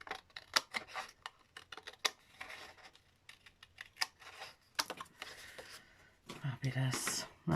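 Scissors snip through paper in quick, close crisp cuts for a junk journal storage box, irregular bursts of clicks and rustles with quiet talk between them.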